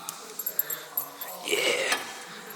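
A lazy dog sniffs closely at a camera with quick, breathy snuffles and a few soft whimpers. The sounds come in short bursts, very near the microphone and fairly faint.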